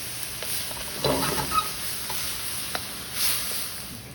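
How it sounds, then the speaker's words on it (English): Lean ground beef fries in a pan for a Beef Lo Mein, giving a steady low sizzle with a few louder spatters and stirring scrapes; nobody speaks. "As you can see, the beef cooks very fast, very lean."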